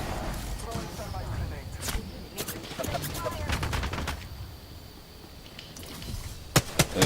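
Rapid video game gunfire rattles in bursts during an online shooter match, loud and dense, with some sharper single shots near the end. A player talks over the shooting.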